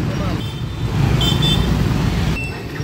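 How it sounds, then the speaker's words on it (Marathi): Road traffic is stuck in a jam, with a constant engine rumble and a hum of idling vehicles, plus a few brief high beeps or toots in the background throughout. "ट्रॅफिक जॅम झालाय गाईज, ट्रॅफिक जॅम."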